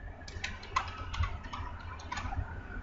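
Quiet typing on a computer keyboard while working in Excel 2013, with light, irregular key clicks in short bursts over a low hum and no voices.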